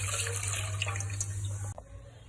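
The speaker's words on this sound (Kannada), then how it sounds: "ಹಾಲು ಹಾಕೊಂಡ್ಬಿಡೋಣ." Milk poured into a pan of sabudana and carrot payasa, a steady close gushing stream of liquid that stops abruptly near the end.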